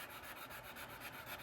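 A wood slicker burnishes the edges of a leather wallet with fast, even rubbing strokes, a soft, close, steady friction whoosh.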